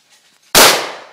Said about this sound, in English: Oh, he's shooting them two at a time